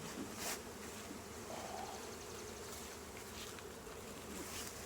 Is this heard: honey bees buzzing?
yes